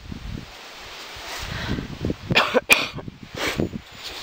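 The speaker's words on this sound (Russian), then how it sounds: "наелась мороженого в такую жару, теперь кашляю" A woman outdoors in a peony garden coughs in several rough, breathy bursts over faint wind and rustling, with the loudest coughs clustered near the middle.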